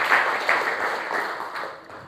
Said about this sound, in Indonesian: Beri tepuk tangan terbaik buat itu